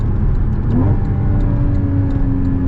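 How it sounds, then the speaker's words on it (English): Porsche 981 Boxster S flat-six accelerating hard through its PDK gearbox, a loud, close engine and exhaust roar that climbs steadily in pitch with a gargling burble, heard alone without any talk. "And the gargles you get out of the exhaust"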